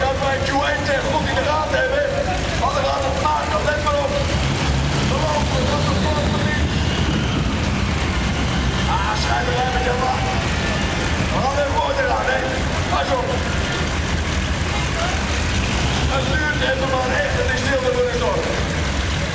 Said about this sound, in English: Right then, all fired up, ready to go I think. The V12 Allisons, all three of them are pumping away.